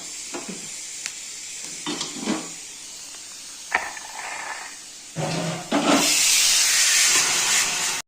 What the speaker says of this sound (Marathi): आपले बटाटे पण इकडे उकळत आहेत.